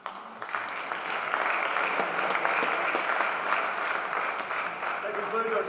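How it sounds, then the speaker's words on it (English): Audience applause at a high school football banquet, steady and broad with a dense wash of clapping sustained across the whole stretch, fairly close and even in loudness. "let's give a round of applause to our players, cheerleaders, and trainers"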